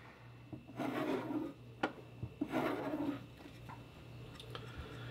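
A knife blade is drawn backwards along a strop to remove the burr from its edge. Two soft, quiet rasping strokes sound over a low steady hum, with a light tap between them.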